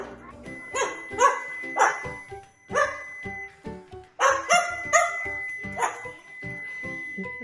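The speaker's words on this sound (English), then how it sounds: "Dog's growling now." A dog growls and barks in short, repeated bursts, some of them sharp and ringing, spread across several seconds at close range, with brief pauses between them.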